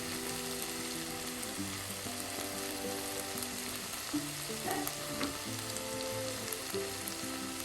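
Chili powder, Kashmiri chili powder and turmeric are stirred into hot oil for a Kerala-style seabass curry, giving a steady close sizzle and frying crackle throughout, with soft scraping of the stirring spoon and no talking.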